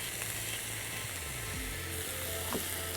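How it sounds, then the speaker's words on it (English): Venison sizzling in an oiled pan, a dense, continuous frying hiss held close and steady throughout, with faint clicks and scrapes mixed in, no talk. "Right, so we've coloured that venison, all sides, that's still cooking through there."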